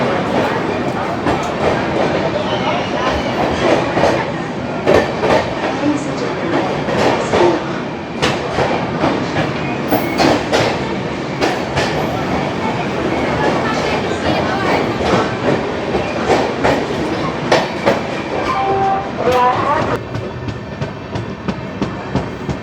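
Tamil Nadu Sampark Kranti Express passenger train running between Bhopal and Hazrat Nizamuddin, a steady loud rumble with rhythmic clickety-clack of wheels on rail joints throughout, heard from onboard.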